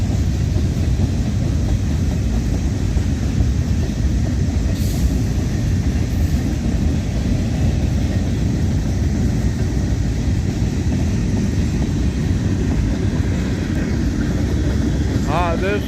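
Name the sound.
mixed manifest freight train with empty auto racks passing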